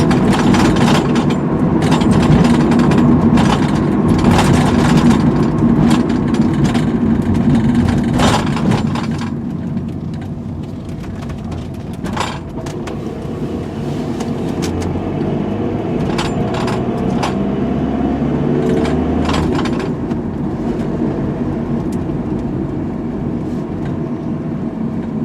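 Ford Transit Connect 1.8 TDdi diesel van on a test drive, a steady low engine and road rumble running throughout, louder in the first third and then easing to an even cabin drone with small knocks and clicks.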